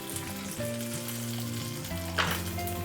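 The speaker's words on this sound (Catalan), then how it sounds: "En una paella amb una mica d'oli hi posarem a fregir els talls de botifarra blanca" Steady sizzling of white Catalan sausage (botifarra blanca) slices frying in hot oil in a pan, continuous and close, with a brief scrape of stirring near the end.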